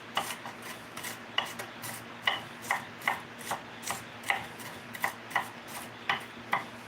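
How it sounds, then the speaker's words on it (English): Knife chopping onions on a board, a quiet, even series of about twenty crisp taps in steady rhythm, close by with no talking. "When I cut my onions up."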